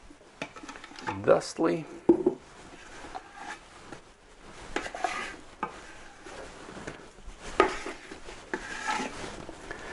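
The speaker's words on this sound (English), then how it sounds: "It's a little sticky because, like I said, it's a very wet dough. So we scrape it out" Sticky, very wet no-knead sourdough dough scraped out of a mixing bowl, giving soft irregular rubbing and scraping noises close by, with a person talking over much of it.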